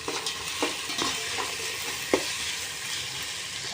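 Onions sautéing in a pan for chicken biryani, a close, steady sizzle with a few distinct stirring scrapes and clinks, no voices.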